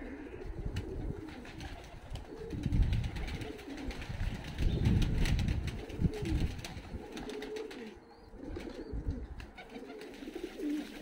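Tumbler pigeons coo in low, throaty bursts at a loft in Tbilisi, Georgia, over a busy outdoor background, with occasional soft chirps and rustling throughout.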